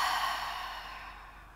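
A slow, soft exhale through the mouth during a yin yoga class, one long breath that fades steadily with nothing else around it.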